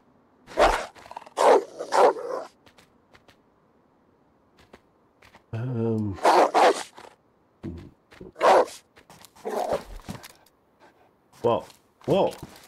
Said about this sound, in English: Such a disobedient dog.